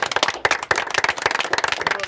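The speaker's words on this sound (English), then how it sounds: "we have to applaud him" Brief applause and clapping for a first-place winner in a Europa Universalis IV developer match, a dense burst of claps mixed with excited voices talking over it.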